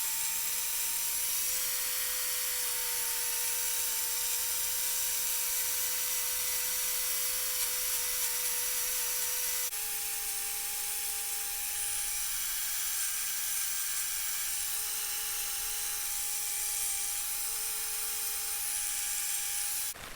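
A grinder fitted with a cutter carves wood for a snowman figure, giving a steady high whine with a constant tone that holds throughout, shifting pitch slightly about halfway as the load changes, with no talk.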